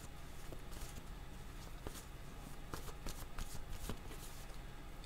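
Tarot cards are shuffled close to the microphone, with quiet repeated riffling and soft flicks of card stock over about five seconds.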